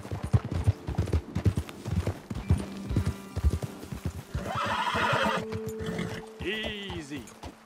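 Horses' hooves clip-clop on a trail in Red Dead Redemption 2. The steady, close hoofbeats run alongside occasional whinnies and snorts, and voices speak over them partway through.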